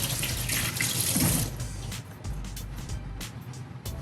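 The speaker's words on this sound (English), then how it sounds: "That was 18 seconds of washing hands." Running tap water splashes steadily over hands being washed at a kitchen sink, a loud continuous rush with rubbing and spatter changes.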